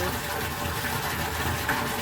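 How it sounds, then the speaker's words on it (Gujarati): A water pump motor fills a household water tank that is nearly full, producing a loud, continuous gushing rush of water with a steady mechanical undertone. "મોટર બંધ કરી દે. પાણી ટાંકીમાં એટલું પાણી છે, ભરાઈ જવા આવી છે."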